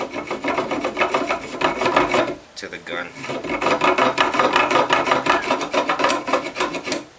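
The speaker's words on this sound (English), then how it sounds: "you're going to be sanding this down" Rapid rhythmic rasping of sanding lead ballast flush on a speargun, loud and close, with a brief pause midway and a short spoken remark.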